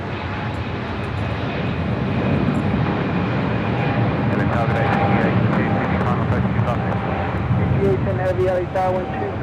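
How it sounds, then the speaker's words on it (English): Boeing 777-200 on its takeoff roll down runway 25 right on the south side of LAX, a loud, steady jet engine roar held for the whole stretch, with faint voices running beneath it. "777-200. Now rolling down 25 right there on the south side."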